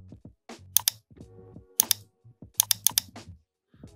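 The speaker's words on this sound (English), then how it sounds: "So I'm going to type in this." Typing on a computer keyboard while setting up batch rendering in 3ds Max, with bursts of sharp key clicks in short clusters over faint low background sounds, close and fairly quiet.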